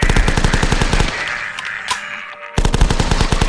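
Rapid automatic gunfire from The Last Stand video game, loud fast bursts of shots, a brief pause with a single crack, then the burst resumes.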